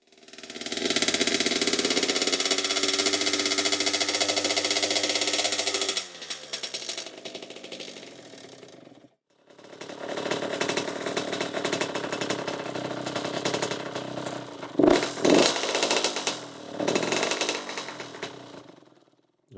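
The engine of a 2007 Honda CR85RB dirt bike runs rough and needs carburetor adjustment: a loud, steady buzzing idle for several seconds, a brief drop to near silence, then uneven running with sharp pops and sputters.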